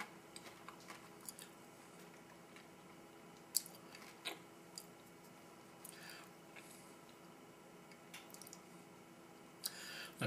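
Close, quiet chewing of a green peanut butter M&M from a 2004 MRE, with soft crunches and faint clicks scattered irregularly through roughly ten seconds, and no talking.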